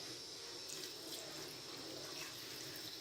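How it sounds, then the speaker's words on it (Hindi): Water is poured into a cooking pan of chicken korma after frying, a steady continuous splashing gush that stays even and fairly loud for the whole stretch, with no voices. "तकरीबन 5 मिनट अच्छी तरह से फ्राई करने के बाद अब हम यहाँ पर थोड़ा सा पानी ऐड"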